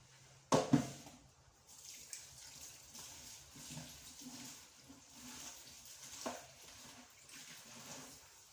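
Vegetables being washed under a running kitchen tap, with a sharp clatter at the start followed by a soft, uneven trickle and splash of water, faint and close, with occasional small knocks.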